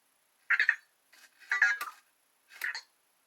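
An Anki Vector toy robot gives a short series of electronic chirps and warbling beeps, three quick bursts with brief pauses between, fairly quiet and close.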